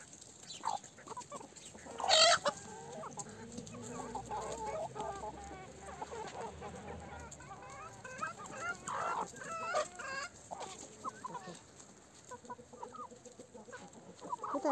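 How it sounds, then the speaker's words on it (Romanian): Cochin and other backyard hens cluck softly and intermittently while pecking at bread, close by, with one sharper squawk rising out of the quieter murmuring of the flock. "A venit și găinușa de Cochinchina."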